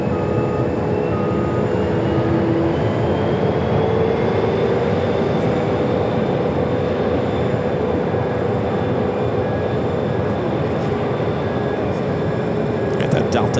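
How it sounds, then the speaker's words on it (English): A Delta Airbus A330-300 arriving at Phoenix Sky Harbor from Detroit produces a loud, steady jet roar that holds evenly throughout. "Got that Delta A330-300, the flight coming in from Detroit"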